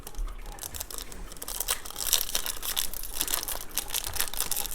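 Crinkling and tearing of a WWE Topps trading card pack wrapper as it is ripped open, close up, in quick irregular crackles.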